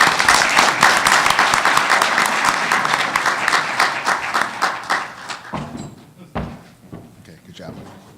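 An audience at an energy innovators pitch competition gives a loud, dense round of applause that fades out after about five seconds, leaving scattered claps and faint room sounds.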